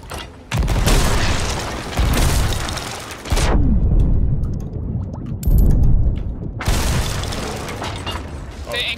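A ship's anchor drops in the Sea of Thieves pirate game during a ship battle, loud rumbling mechanical bursts and booms in repeated waves, with gameplay noise throughout.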